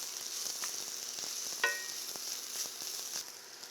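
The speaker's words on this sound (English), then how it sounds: "Shallots or onions going in. And if you know me, it's probably going to be a shallot. Moderate heat here." Shallots sizzle in a pan over moderate heat, a soft steady hiss with small crackles and one sharper pop partway through, close and alone without talk.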